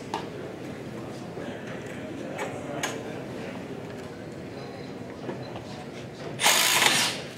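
A Milwaukee One-Key cordless driver runs at full speed while overdriving a conduit coupling, with a steady mechanical whir and clicking ratchet texture, then a loud burst of harsh noise near the end as the bit slips.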